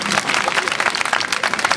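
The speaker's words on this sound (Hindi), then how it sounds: "बेटियों की तालियों की गूंज तो" Applause from an audience of young women, new 18- to 19-year-old voters at a National Voters Day celebration in Moradabad, a dense burst of hand clapping heard close and continuous.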